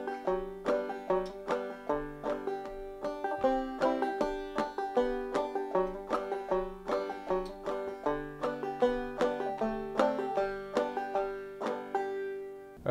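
Banjo picking the tune Groundhog, a steady stream of bright plucked notes in a quick, even rhythm with a droning string underneath, close and clear with no voices.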